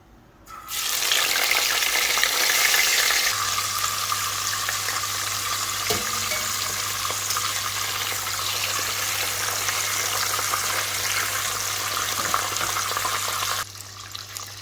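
Hilsa fish and taro frying in hot oil makes a loud, steady, close sizzle that starts abruptly and holds throughout, with a low background hum and one faint clink near the middle.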